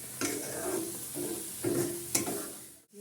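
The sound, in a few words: paste being stirred and fried in oil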